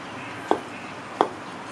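A knife chops through mushrooms on a board while making Thai stir-fried basil pork: two crisp, separate cuts about seven-tenths of a second apart, close and clear over quiet room tone.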